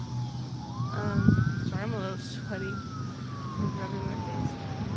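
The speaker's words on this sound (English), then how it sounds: "And a siren went off right after that." An emergency vehicle siren wails outside, rising and falling in long sweeps at moderate distance beneath a person talking close up, with faint traffic rumble in the background.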